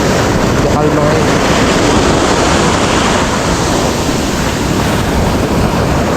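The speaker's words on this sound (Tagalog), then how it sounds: "Sa gilid lang yung alon." Calm sea with small waves breaking along the shore, a steady wash of surf roaring close by with gusty wind buffeting the microphone throughout.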